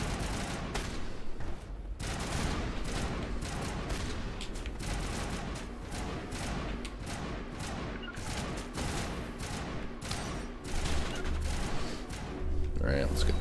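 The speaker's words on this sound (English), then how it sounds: "Manovai is under coordinated crossfire" Sustained crossfire in the Mass Effect video game, with rapid overlapping gunshots and bursts of automatic fire that crackle densely and continuously, punctuated by heavier impacts, loud and close throughout.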